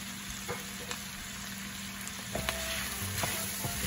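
Mushrooms hit a pan of rendered pork fat, giving a dense, close frying sizzle with scattered pops and clicks that swells slightly as they settle in.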